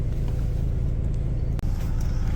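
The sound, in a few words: riding a bus in Japan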